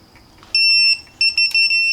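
High-pitched electronic beeping from a digital torque wrench reaching 25 pounds on BMW F series wheel studs: one long tone followed by a few short beeps, loud and close, over a faint background.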